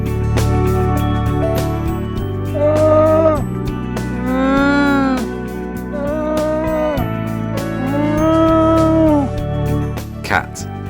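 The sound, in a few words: llama call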